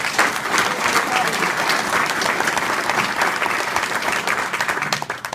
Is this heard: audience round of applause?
yes